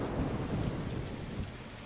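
A thunderstorm in The Legend of Zelda: Breath of the Wild: steady heavy rain with low, rolling thunder rumbling underneath, dense and continuous, with no talking.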